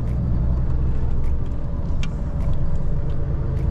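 A car drives steadily on a road in Slovakia, a continuous low engine and road rumble, close and fairly loud, with no breaks.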